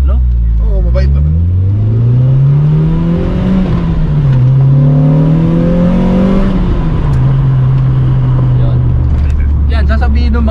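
Honda Civic EG hatchback with a 2.0 DOHC engine revs up loud and close, its pitch climbing and dipping across several pulls before settling into a steady drone, with someone talking over it.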